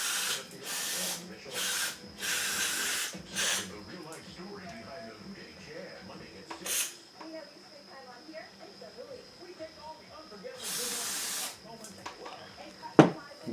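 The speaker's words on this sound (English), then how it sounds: "I'll give it a shot of carb cleaner." Carb cleaner sprayed onto the carburetor of a 1974 Suzuki TC 125 motorcycle under rebuild, several sharp close hissing bursts of varying length separated by quieter workshop noise, with talking heard at times.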